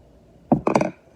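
Scissors snip through a fluffy, hairy seed husk in two quick close cuts, a short sharp crunch followed by a longer rasping slice, alone in a quiet room.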